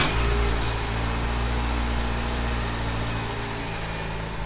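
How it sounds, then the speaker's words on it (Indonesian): A car engine idles steadily at close range during a radiator flush, a continuous low rumble that stays even and slowly eases slightly. "untuk menghidupkan mesin kurang lebih sekitar 5 menit sampai termostatnya"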